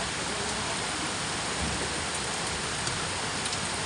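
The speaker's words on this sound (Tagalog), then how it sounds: "Ganda din naman ng ulan." Heavy rain pours steadily in a dense, even hiss with no breaks, close and loud throughout.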